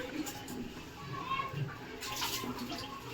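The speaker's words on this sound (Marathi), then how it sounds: "पाणी पडतंय." Water falling from a burst pipe leak, a steady splashing patter under nearby conversation with a voice among the speakers.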